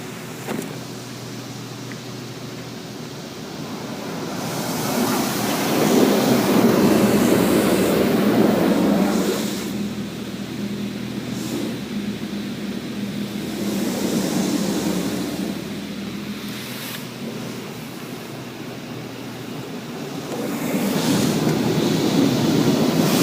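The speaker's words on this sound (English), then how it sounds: "We're getting one more pass of a high power rinse." High-power rinse pass inside a PDQ LaserWash 4000 touchless car wash at a Petro Canada station in Newmarket, heard as a steady loud rushing spray of water that swells and eases in waves across the wash, with no talking.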